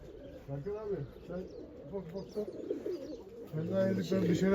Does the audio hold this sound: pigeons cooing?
yes